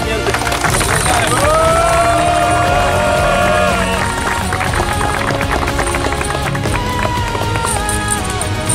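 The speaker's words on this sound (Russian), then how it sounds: "Команда «Витязь», ваши аплодисменты." A crowd applauds team Vityaz at a second-league award ceremony. The clapping is loud and dense throughout, mixed with music and crowd noise.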